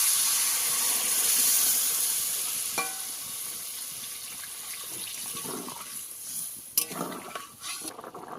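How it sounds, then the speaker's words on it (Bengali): Water is poured into a pan of fried spices while cooking a Bengali prawn and yam curry, giving a steady sizzling, rushing hiss that fades into softer bubbling with a few sharp clinks near the end. "মশলা কষানো হয়ে গেছে, এবার দিয়ে দেবো জল।"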